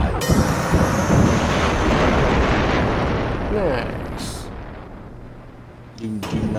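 A heavy explosion in the video game Generation Zero: a loud, dense rumbling blast that roars for several seconds, slowly fades, then flares again with a short burst at the end.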